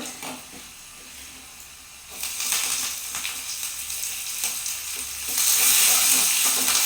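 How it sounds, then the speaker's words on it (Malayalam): Shallots, dried red chilies and curry leaves sizzle loudly in hot oil for a Kerala tapioca and drumstick curry, a dense frying hiss that swells sharply when the ingredients go in and grows louder again near the end. "അപ്പോൾ നമ്മളിതിൽ ചെറുള്ളി, വറ്റൽമുളക്, കറിവേപ്പില ഇടുന്നത്."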